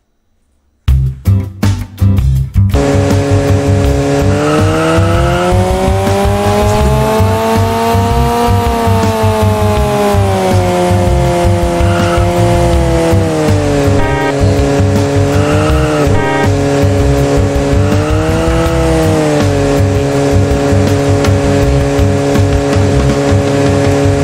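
A car engine revs loud and close for over twenty seconds, its pitch rising and falling in long sustained swells after a few sharp bursts at the start, with no talk over it.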